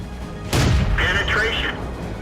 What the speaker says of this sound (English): I'm going to start by popping shots at this T14.